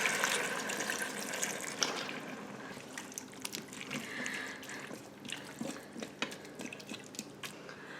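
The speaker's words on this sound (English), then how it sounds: "we're gonna go ahead now and put in 2 cups of chicken broth" Chicken broth poured from a carton into an Instant Pot, a steady liquid splash and trickle close by, with a few drips and small clinks near the end.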